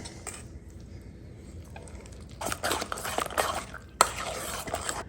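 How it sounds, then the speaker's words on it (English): Cracked egg and shredded cheddar and Colby cheese are stirred in a bowl. After a quiet start, a utensil scrapes and clatters against the bowl in quick, close, irregular strokes. "Now we're gonna mix all this up."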